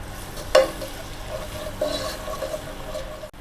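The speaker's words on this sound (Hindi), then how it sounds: "अदरक लहसुन हमारा भुन गया है" Ginger garlic paste fries in a hot pan with a steady close sizzle, punctuated by a couple of sharp clinks of a spoon stirring against the pan.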